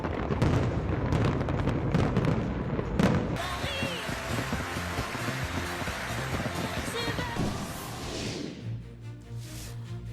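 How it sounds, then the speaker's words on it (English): New Year fireworks in London and Edinburgh: repeated booms and crackling bursts layered over crowd noise, dense at first, then thinning into a quieter, muffled tail. "UK welcomes a new year with spectacular fireworks in London and Edinburgh."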